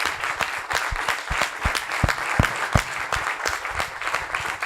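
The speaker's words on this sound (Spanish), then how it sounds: "Así que un aplauso para todos ellos." An audience at a pharmacists' panel discussion claps steadily, a dense patter of many hands with individual sharp claps standing out, sustained throughout.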